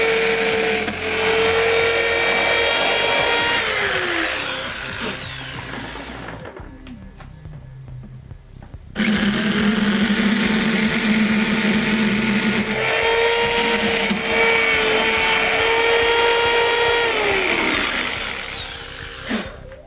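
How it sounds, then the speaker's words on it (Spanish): A power drill boring into a homemade egg incubator, loud close whining bursts that ramp up and down, with a brief quiet gap between two long drilling runs. "vamos a poner el taladro y no sé cómo saldrá de fuerte en la grabación"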